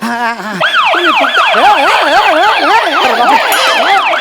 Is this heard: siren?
yes